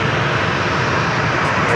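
Fixed-wing airplane on takeoff roll from runway 27 at San Diego airport, a loud, steady, broadband engine roar with hiss filling the whole stretch.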